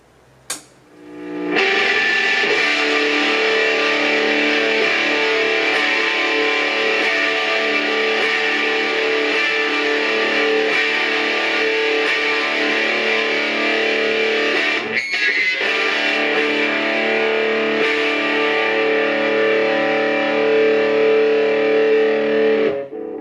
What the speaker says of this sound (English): the BYOC Distortion Plus and the BYOC Fuzz Face. Put them together and see what we get.